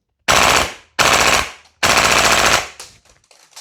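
Double Eagle PSA JAKL gas blowback airsoft rifle fires three loud, close bursts of rapid full-auto shots with brief pauses between them, each burst clattering sharply before cutting off, with faint mechanical noise at the end.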